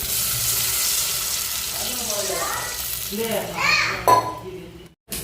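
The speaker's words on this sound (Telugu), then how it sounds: "వాటర్ పోయిస్తున్నాం" Water is poured into a cooking pot, a splashing gurgle whose tone rises as it fills, over a hot sizzle, then cuts off abruptly.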